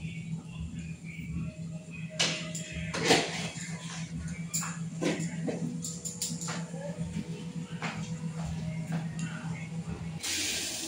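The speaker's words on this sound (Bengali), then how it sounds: "এখানে আদা আর তেজপাতা দিয়ে একবারে আমি চা পাতি দিয়ে বেশি করে ফুটাচ্ছি" Strong tea with ginger and bay leaves boils in a pot, giving a steady close hiss and bubbling under a woman's speech, with a louder gush near the end.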